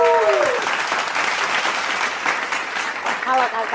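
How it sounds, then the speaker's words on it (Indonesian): Audience applause rings out at a bikers' community talk show as guest stars are welcomed on stage, a steady dense round of clapping with a voice briefly speaking at the start and again near the end. "Tepuk tangan dulu dong."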